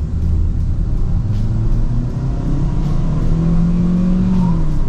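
Engine of a 2021 Chery Tiggo 5x with a CVT and simulated gear shifts, droning steadily under acceleration from inside the cabin, with a rising tone that dips and climbs again as the transmission fakes a shift.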